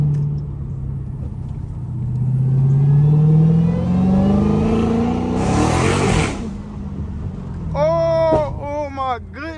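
A supercharged V8 Hellcat car engine revs up, rumbling and climbing in pitch, then drops off; a voice speaks briefly near the end.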